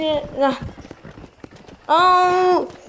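A horse in Red Dead Redemption gives a loud, close whinny late in the clip, after softer clip-clop hoofbeats and a brief voice early on.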